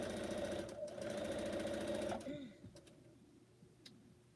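A sewing machine stitching quilt blocks runs in a fast, steady mechanical whir for about two seconds, then stops, followed by a few faint clicks.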